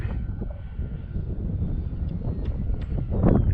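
Gusty wind buffeting the microphone in an open park, a steady low rumbling roar that swells louder near the end, with faint distant engine hum in the background.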